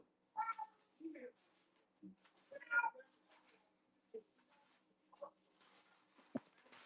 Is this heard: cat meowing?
yes